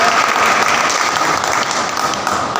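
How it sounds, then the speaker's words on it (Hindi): An audience at an employment and education organisation's ceremony claps steadily and loudly, with a dense, sustained round of applause filling the room. "आ जाओ आ जाओ आ जाओ आ जाओ, तालियां बजाओ।"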